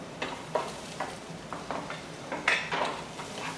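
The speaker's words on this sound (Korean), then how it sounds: "양파를 볶아주세요." Onions stir-frying in oil in a pan for japchae, with a soft steady sizzle and intermittent scraping and clinking of a utensil against the pan, close by.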